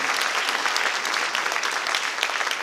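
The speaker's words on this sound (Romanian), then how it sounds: "Haideți să-i aplaudăm pe toți acești cursanți" Audience applause at a gala show for a folk arts and crafts school's 50th anniversary, a sustained, loud roar of many hands clapping in a hall, steady and dense from beginning to end.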